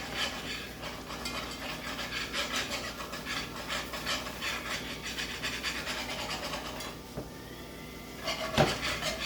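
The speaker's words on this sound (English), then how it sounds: "Just keep stirring and stirring." Flour stirred into onion gravy in a pan, a steady scraping and rubbing rhythm of a utensil against the pan, close and moderate, with a sharper knock near the end and no talking.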